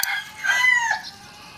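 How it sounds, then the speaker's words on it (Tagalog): A single close chicken crow, short and loud, rises and falls over about a second on a farm with native and white bighorn chickens, with no talk over it. "Ang among manok, mga kaibigan, langas."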